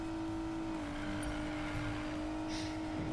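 A fast car racing in Need for Speed: Payback, its engine a steady sustained drone at high speed with a slight pitch dip, continuous and fairly quiet with no talk.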